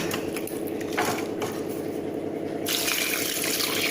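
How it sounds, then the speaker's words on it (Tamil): Plain water poured into a pot of rice for homemade thalappakatti biryani, a steady close gushing and splashing stream that runs unbroken and grows brighter and louder in the final second, with no talking. "இப்போது நீங்கள் தண்ணியை ஆட் பண்ணணும்."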